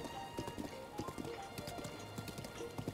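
Horse hooves clip-clop in a steady, brisk rhythm while riding across open ground in the video game Zelda: Breath of the Wild, fairly quiet with faint ambient game sounds around.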